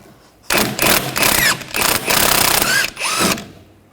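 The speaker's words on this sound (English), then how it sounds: "Using a 13mm socket, we're going to take the nut off." A power tool with a 13mm socket spinning a nut off a rear sway bar link on a 2013-2019 Ford Escape, loud close bursts of buzzing that start and stop several times over a few seconds.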